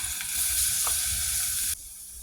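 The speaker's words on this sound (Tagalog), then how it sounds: "At pagisa na natin muna sa bawang." Chopped garlic sautés in a hot pan as the base for squid adobo, giving a steady, close, loud sizzle that drops off sharply near the end, with no talking.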